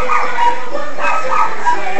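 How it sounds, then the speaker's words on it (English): A dog barks and yips indoors in a short, close burst of several sharp, loud calls. "Dog's barking bothering you?"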